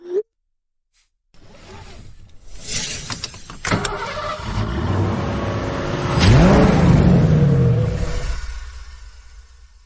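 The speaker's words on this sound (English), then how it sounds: "The car has been parked downstairs for over 5 years. Why did it suddenly drive away?" A car that had sat parked downstairs for years starts up and pulls away, its engine revving and whirring steadily louder, then rising in pitch as it accelerates off, with no talking.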